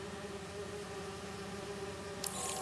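Steady insect-like buzzing of bees in the Marvel's Spider-Man 2 video game, a continuous low drone held throughout with a brief brighter rustle near the end, no voices over it.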